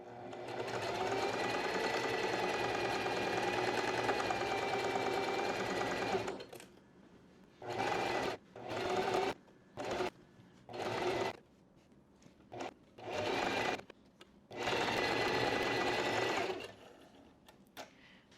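A home sewing machine stitches a DIY maxi skirt, first in one long steady run, then in a series of short stop-start bursts with quiet pauses between them.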